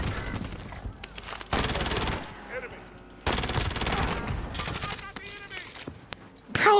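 Sniper rifle shots in a video game, heavy cracking blasts in long dense bursts that come one after another with brief gaps, while a voice talks over the gunfire.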